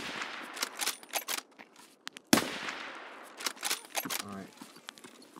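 Scattered gunshots ring out in a shooter game, short sharp bursts spread across the moment with one loud close crack, while people talk between them.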